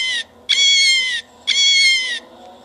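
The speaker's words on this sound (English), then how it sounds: "it's a kitty, and it meows" A cat keychain toy gives two bright electronic meows at the push of a button, each lasting under a second with a short gap between them, loud and close.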